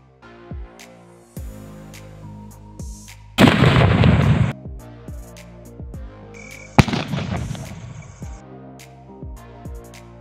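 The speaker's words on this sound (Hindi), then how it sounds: "चलिए गाइस इस बड़े वाले वीआईपी में लगाते हैं आग और देखते किस प्रकार से धमाका होने वाला है आज।" A large homemade VIP firecracker bomb goes off outdoors with a loud, sharp blast, followed moments later by a second booming burst, with quieter pops and crackles scattered around.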